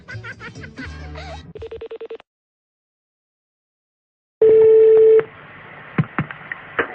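A telephone call is being placed for a prank: rapid dial tones and beeps, then silence, then a loud steady ringing tone followed by faint line noise and small clicks, with no clear talk.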